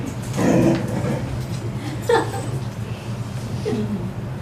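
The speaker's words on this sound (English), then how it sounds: "You're supposed to bark at the evil part." A dog gives a few short whimpering yips and soft barks, close and moderately loud, spaced apart over a steady room hum, with faint voices nearby.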